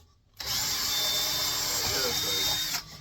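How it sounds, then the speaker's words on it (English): A power drill whirs steadily for a few seconds after a brief quiet start, boring through pallet slat wood before cutting off. "Sometimes I use this, just drill a hole."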